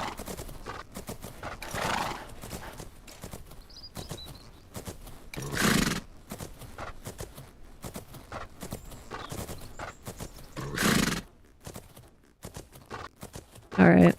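A horse in a video game trots with steady clip-clop hoofbeats and occasional whinnies, under continuous talking throughout.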